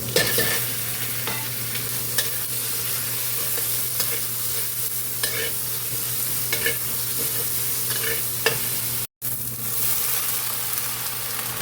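Garlic fries in a hot pan with a continuous close sizzle, and faint stirring clicks sound every second or so. A brief dropout comes near the end, and no one speaks.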